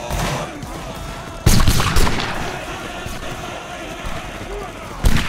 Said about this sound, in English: Fire at the Spanish line. That's a good target right there.